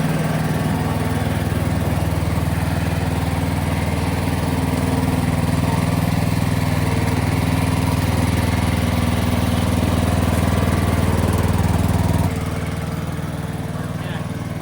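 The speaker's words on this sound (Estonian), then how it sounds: "Muruniidukiga. Davai." A lawn mower engine runs steadily and loudly at close range for the whole stretch, its low drone shifting slightly near the end, during an outdoor Midsummer gathering.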